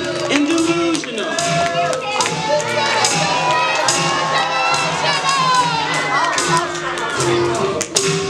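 Crowd of protesters shouting in a cartoon story scene, a loud, dense mass of overlapping excited voices and cries, continuous throughout with some cheering and clapping mixed in.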